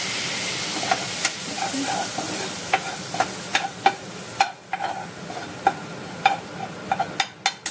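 Masala for black-eyed peas (lobia masala) being stirred in a pan with a splash of water: a steady close sizzle broken by repeated sharp spoon scrapes and clicks against the pan.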